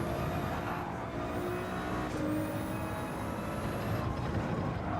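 Continuous engine drone of a Ferrari race car in Gran Turismo 7, steady and close with rising and falling whine as it shifts, running throughout without a break.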